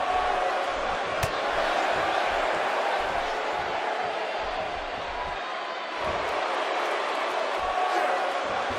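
A wrestling arena crowd cheering during a match, a continuous loud roar with occasional sharp thuds from the ring, under commentators talking.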